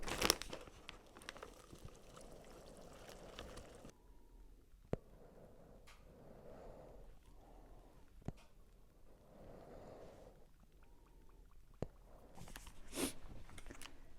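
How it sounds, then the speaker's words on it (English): Faint crinkling and tearing of a powdered ceramic glaze packet, with soft rustles and a few sharp clicks in a quiet room. "put the mask on before I open the packet"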